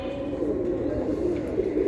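A silver Giribaz pigeon coos nearby, a low, soft, throaty murmur repeating through the moment against a faint background hum.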